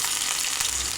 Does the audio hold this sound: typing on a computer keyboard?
no